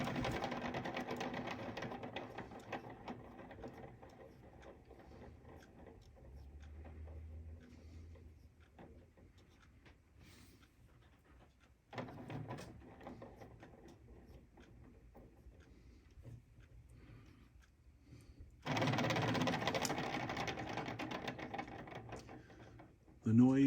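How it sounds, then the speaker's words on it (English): Strained, unhappy bearings in rapidly moving magnet devices being pulled in many directions, giving a continuous mechanical whir and rattle with ticking and grinding that surges and drops, loudest near the end. "The noise is some very unhappy bearings in some devices that are getting pulled in many directions, very rapidly changing."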